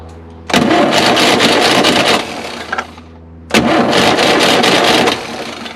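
A 1960 Panhard PL17 engine is cranked using a starter wired by hand, giving two long, loud bursts of rapid rhythmic cranking separated by a short pause, with no catch and only a low hum between bursts.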